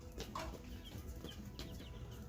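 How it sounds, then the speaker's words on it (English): Several baby chickens cluck softly nearby in short, scattered bursts, with faint rustling and no talking. "we're looking at chickens here"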